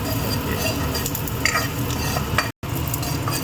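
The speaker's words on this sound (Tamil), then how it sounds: "இதை போட்டு தாளிக்கிறீங்க" Spices crackle and sizzle in hot oil while being tempered for a chana masala gravy, stirred throughout, a busy, close frying hiss with light scraping.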